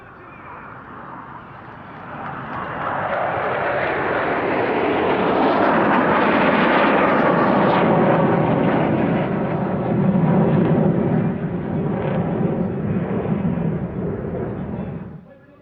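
Jets of the Swifts aerobatic team arrive at the Russian Air Force 100th anniversary air display, releasing flares. A deep jet roar swells from quiet to a loud, sustained rumble, then fades slightly as it passes.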